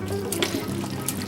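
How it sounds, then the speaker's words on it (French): Warm water pours steadily into a cooking pot for homemade couscous, a continuous close splashing rush without pauses and with no speech. "Et là, je mets de l'eau tiède ou chaude"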